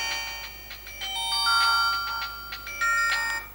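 Ringtone from a Micromax Joy X1850 mobile phone, a bright synthetic melody of chiming electronic notes playing clearly in a quiet room.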